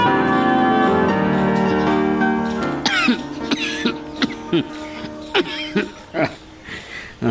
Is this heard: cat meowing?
no